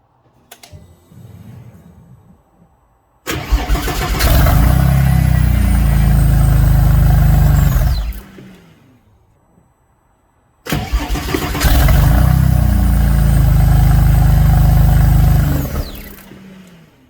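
A Porsche 996 Turbo engine cranks and catches, roaring loudly for several seconds before cutting off, then starts again and runs just as loud until the end.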